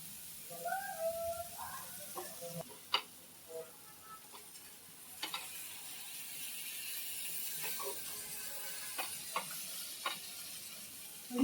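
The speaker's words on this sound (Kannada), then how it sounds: "ಇವಾಗ ಇಟ್ಟಿದೀವಿ ಸ್ವಲ್ಪ ಹಂಗೆ ತವಾ ಫ್ರೈ ಮಾಡೋಣ" Fish frying on a flat tava griddle, a low steady sizzle with scattered clicks and scrapes of handling, fairly quiet throughout.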